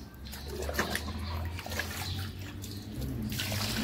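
Water mixed with fertilizer is poured onto the soil at the base of a potted plant, giving a soft, steady trickling and splashing close by.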